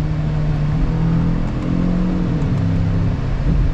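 Up close, a Genesis G80 with the 2.5T engine accelerates at full throttle, a loud, sustained engine drone and whir with rising tones and no talk.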